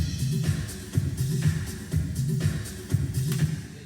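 A drum groove with snare hits ringing out in a wide, washy plate reverb tail, repeating in a steady rhythm.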